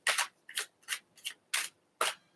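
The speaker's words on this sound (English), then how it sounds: "Just get a good shuffle on this one" A deck of tarot cards is shuffled up close, six brisk rasping riffles in a quick even rhythm with short silent gaps, no voices.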